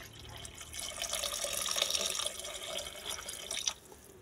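Water pours into a pan of cooking vegetables in a home kitchen, a continuous splashing stream lasting a few seconds and swelling midway before it stops. No one speaks.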